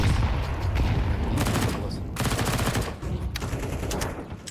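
Gunfire in Counter-Strike during a competitive match on the Anubis map: several rapid automatic bursts of shots, loud and close, separated by short pauses, with no voices over them.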